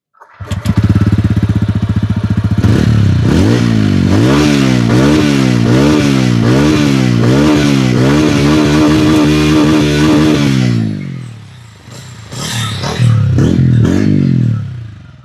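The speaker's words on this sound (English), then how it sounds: "You guys must have heard the exhaust note." A TVS Ronin 225 motorcycle engine starts and is revved repeatedly in rhythmic bursts, loud and close, then drops off before a few more sharp throttle blips.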